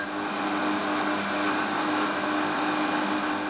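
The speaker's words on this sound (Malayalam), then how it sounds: "ഇതെല്ലാം നമുക്കൊന്ന് മിക്സിയിലൊന്ന് അടിച്ചെടുക്കാം." A kitchen mixer grinder loudly whirs at a steady pitch while blending milk, sugar, peanut powder and powdered flattened rice, one continuous close motor roar with no break.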